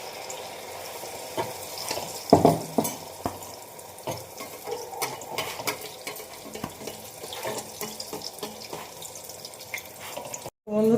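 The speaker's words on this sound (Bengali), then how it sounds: "এইভাবে আমি সব পিঠেগুলি একটা একটা করে ভেজে নেব" Malpua pithe frying two at a time in a small wok, a steady soft bubbling sizzle with scattered spatula scrapes and clinks, fairly quiet and continuous.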